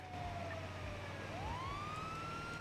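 An ambulance siren in a GTA roleplay game wails steadily with a falling and rising tone over a low rumbling engine, loud and close with no talking.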